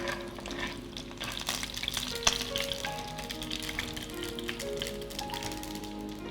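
Chopped large onions frying in hot oil with browned mustard seeds and urad dal for a ladies' finger chutney, giving a soft continuous sizzle and crackle with a few sharper pops, close but fairly quiet.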